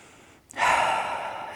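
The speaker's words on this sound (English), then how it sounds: "We're taking a deep breath in." A deep inhale during a yoga boat pose, a sharp intake that swells into a long, close, airy breath held steady for about a second after a brief quiet moment.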